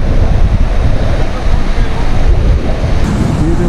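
A roaring, surging mountain river on the road from Manali to Darcha in Ladakh rushes loud and constant, heavy turbulent water noise mixed with wind buffeting the microphone.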